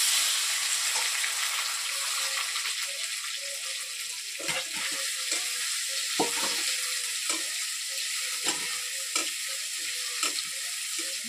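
Tomato frying in a pan at an outdoor riverside cooking spot produces a constant sizzle, broken by frequent rhythmic stirring clatters and scrapes close by, with no talking.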